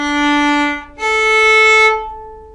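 A violin sounds open D then open A, from a song lesson: a rich sustained low string note, a short gap, then a brighter open A held before fading, played close and alone without speech.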